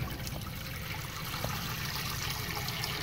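Water is poured out for pet ducks in a continuous, fairly loud rushing trickle that holds steady from start to finish, with no voices.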